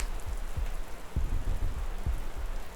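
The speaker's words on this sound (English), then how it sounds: "the rain on the tarmac and everything is just muffling the sounds of Rycon moving" Rain falling on tarmac, soft steady patter with low dull thumps scattered throughout, faint and close, no voices.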